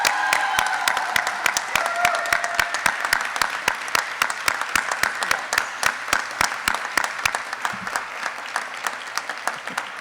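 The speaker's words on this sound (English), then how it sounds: "Ladies and gentlemen, please join me in a round of applause for the latest inductee to the Honorable Order of the Eagle Rising" A ceremony audience applauds an inductee to an honorary society, dense steady clapping from many hands filling the room for about ten seconds before thinning slightly near the end.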